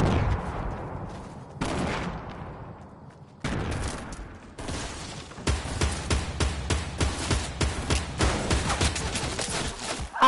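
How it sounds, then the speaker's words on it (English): Heavy bursts of gunfire in a Fortnite match, loud and close, arriving in dense volleys with short gaps and then a sustained rapid stretch of shots toward the end. "I'm being shot."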